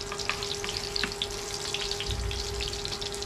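Fried rice sizzling in a pan, a close, continuous bright hiss with scattered crackles and faint splashy stirring, steady throughout.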